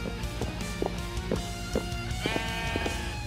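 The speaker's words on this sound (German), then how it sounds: "Moment, wo ist das Schaf?" Several short sheep bleats from the video game Minecraft ring out at uneven intervals over steady background game music.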